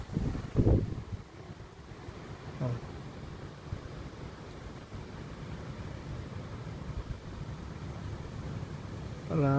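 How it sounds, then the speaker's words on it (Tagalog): Strong wind rushes steadily with rain mixed in, a continuous broadband roar, with a few short louder bumps and brief voice sounds. "kita ko malakas ng hangin at saka ulan"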